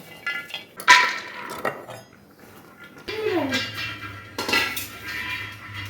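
Kitchen utensils are handled at close range, with a few sharp metallic clanks and clinks scattered across the moment and a voice heard between them.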